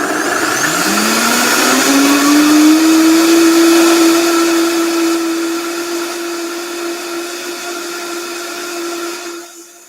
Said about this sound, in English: So now here comes the blender.